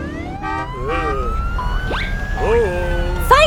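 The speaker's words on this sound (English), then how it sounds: "Police car." A cartoon police car siren wails with rising and falling tones in short repeated sweeps over a steady background, ending in a brighter burst, loud and close.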